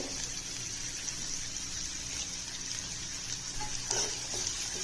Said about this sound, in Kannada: ಈರುಳ್ಳಿನ ಮೀಡಿಯಂ ಉರಿ ಇಟ್ಕೊಂಡು ಮೆತ್ತಗಾಗೋವರೆಗೂ ಈರುಳ್ಳಿನ ಉರಿಬೇಕು.